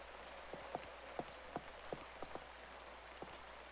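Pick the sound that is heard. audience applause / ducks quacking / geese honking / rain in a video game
rain in a video game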